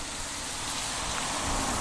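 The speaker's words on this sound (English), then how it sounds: "And as you probably can tell, the rain is starting to stream down here." Heavy rain pours down at a Premier League football stadium, a dense, steady wash of noise that fills the whole moment with no gaps and no clear voices.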